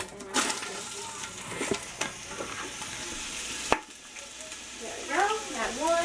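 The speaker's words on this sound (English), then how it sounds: "Your pan here. I just heated up with oil." Oil sizzles steadily in a heated frying pan with a little water in it, with a few clinks and stirring sounds, and a single sharp knock partway through.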